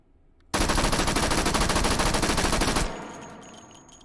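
A Thompson M1A1 submachine gun fitted with a Cutts compensator fires a single sustained automatic burst of about two seconds in the H3VR game, loud and rapid, followed by a fading echo tail.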